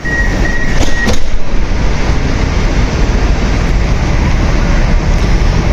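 A Moscow metro train departs with a loud, steady roar of wheels and motors filling the carriage, after a brief tone and a sharp clunk at the start.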